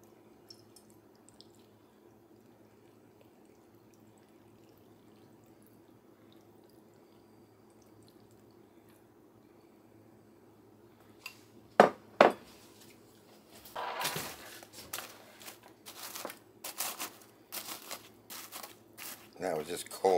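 Cold water poured into a pouch of freeze-dried chili comes as a couple of sharp splashes and then a run of crinkling, sloshing bursts after a quiet start, close and intermittent.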